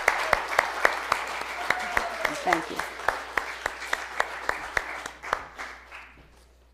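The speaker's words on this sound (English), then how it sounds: "Let's give each other a round of applause." A congregation at a spiritual service applauds one another, sharp individual claps ringing out in a steady rhythm over softer crowd clapping and a brief whoop, then fading as a voice speaks.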